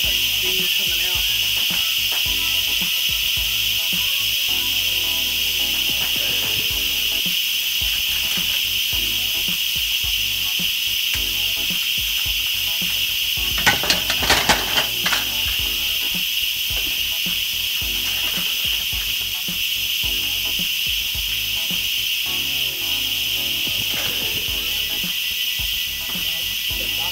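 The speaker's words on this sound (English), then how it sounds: "See all that steam coming out?" Steam hisses steadily from a cooking pot after its lid is lifted, a continuous airy rush that holds at a constant level with a brief louder flurry midway.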